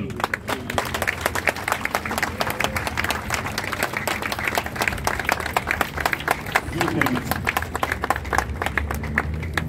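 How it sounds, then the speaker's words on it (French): Mourners at a funeral stand and applaud a departed artist, a crowd's steady clapping that continues evenly throughout, with voices faintly audible beneath it. "Et je voudrais que nous nous levions pour applaudir l'artiste qui s'en va, pour dire bravo l'artiste."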